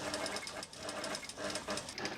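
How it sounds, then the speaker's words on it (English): A dressmaker's sewing machine runs in quick stitching bursts as tulle and organza are sewn into a couture flounce, close and fairly quiet, with a short pause partway through. "The dressmaker stitches her flounce."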